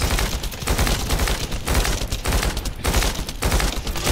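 Continuous heavy automatic fire aimed at a boss's shield in a video game, loud and close, with rapid shots in pulsing waves and no talk.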